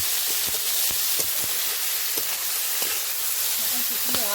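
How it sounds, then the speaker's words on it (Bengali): Eggplant frying in a pan gives a continuous hissing sizzle with scattered sharp pops and a few utensil taps, steady and close, with a brief tonal sound near the end. "বেগুন একটু ভাজা ভাজা করে নিলাম একটু ভাজা হোক"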